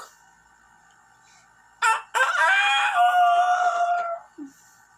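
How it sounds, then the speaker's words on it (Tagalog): A rooster crows once nearby, a loud strained call after a short cluck, with a brief faint cluck following in an otherwise quiet setting. "Dayon nito gaok ang manok."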